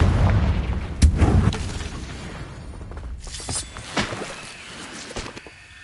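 In Hogwarts Legacy, a Confringo fire spell detonates with a sharp booming blast, followed a couple of seconds later by a cluster of rougher crackling bursts over a low rumbling game background.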